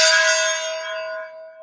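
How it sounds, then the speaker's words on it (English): A gong is struck once with a bright metallic clang, then its steady ringing tone fades slowly over a second and a half, heard alone. "Bang that gong real quick"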